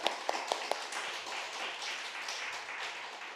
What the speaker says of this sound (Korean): 박수로 다시 한번.